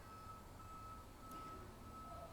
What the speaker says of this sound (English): that's the garbage truck that's dumping the garbage right now.